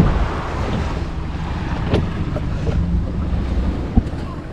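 Small boat's outboard motor running on open water near an island camping spot, a low churning hum mixed with wind buffeting and water splash, steady and close, with a sharp knock near the end.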